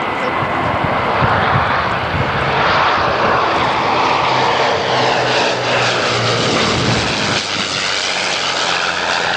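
A Merlin-engined Spitfire Mk IIA flies past at an air display, its engine a loud, sustained propeller roar filling the whole stretch while a voice talks over it.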